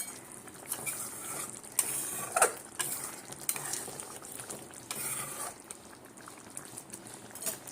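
Half a spoon of ghee sizzles in a pan on a low gas flame for an egg dish, with a steady close crackle, scraping stir strokes and a few sharper clinks of the utensil against the pan.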